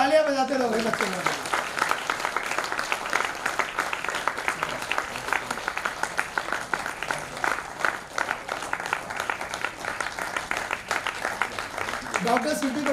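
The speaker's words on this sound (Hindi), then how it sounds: "या तालियां बजाते रहोगे बच्चे लोग" An audience at a book review event for Atomic Habits claps in sustained, steady applause that runs for most of the stretch, with people talking over it.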